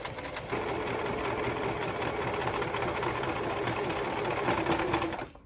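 A sewing machine runs at slow speed, stitching a steady, close mechanical whir that holds for several seconds before stopping, with no talking over it.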